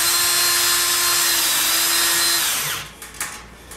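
Power drill driving a long screw into a TV antenna mount, a loud high whine held steadily for over two seconds, then winding down and ending with a few light knocks and handling clicks.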